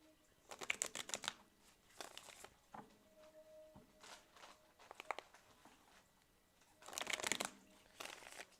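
Tarot cards shuffled by hand, soft quick riffling bursts repeated in short rounds with pauses between, close and quiet, with no voice over them.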